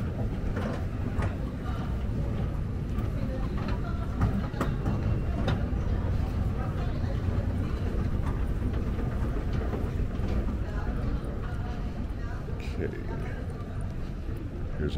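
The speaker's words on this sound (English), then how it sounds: "SkyTrain." Singapore airport SkyTrain runs with a continuous loud low rumble and rolling hum, steady throughout, with faint clicks on top.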